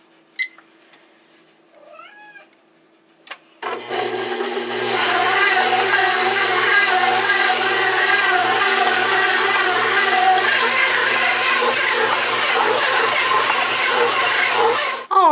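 A stand mixer kneads a heavy stuffing bread dough, starting up abruptly after a few quiet seconds with a faint cat meow, then running as a loud, steady motor whir with a rhythmic churning knock throughout.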